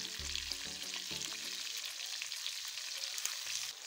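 Pork sizzles steadily in a pan with onion and green pepper for a Ugandan pork dish, a dense close frying hiss with brief low knocks near the start and no voices.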